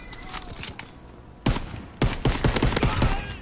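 Rapid gunfire from a weapon in the Call of Duty: WWII multiplayer team deathmatch, with scattered shots, then dense bursts that grow loud and fast after a pause.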